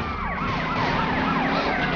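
Police car sirens wail in the GTA Vice City video game during a chase, with several overlapping sirens sweeping up and down continuously under a steady engine rumble at fairly loud volume.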